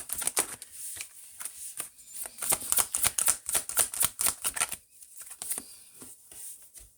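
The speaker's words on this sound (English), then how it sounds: "And then we'll just shuffle the rest of them" Tarot cards being shuffled by hand, a run of crisp riffling bursts and papery flicks close to the microphone, with short pauses between rounds and no talking.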